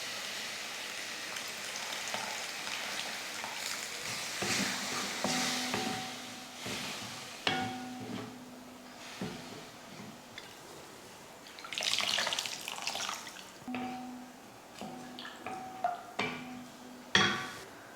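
Tamarind water pours into a pan of Tamil pepper kuzhambu (milagu kulambu), splashing and hissing in bursts, with intermittent clinks of a utensil against metal and short stirring scrapes.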